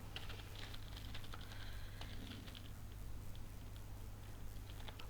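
Soft, quick keystrokes on a computer keyboard while entering figures into a spreadsheet, a faint patter of clicks over a low steady hum.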